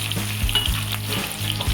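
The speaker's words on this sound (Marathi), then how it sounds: "आपण कांदा टाकून घेणार आहोत. त्याबरोबरच मिरची पण टाकणार आहोत आणि लसूण पण." Onion, green chilli and garlic hit hot oil in a kadhai with a bright, steady sizzle, crossed by a few rhythmic stirring scrapes, close and fairly loud, with no speech.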